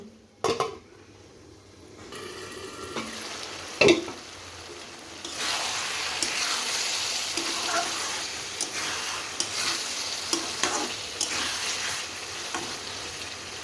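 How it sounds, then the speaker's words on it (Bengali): Chicken curry with tomato sautés in a pan, a few sharp clanks of the spoon against the metal at first, then a steady close sizzle with ongoing stirring and scraping. "আর একটু কষিয়ে নেব।"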